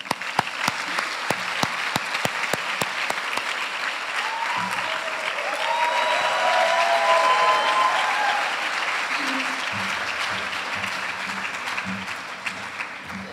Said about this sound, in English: let's raise our pens and give a big round of applause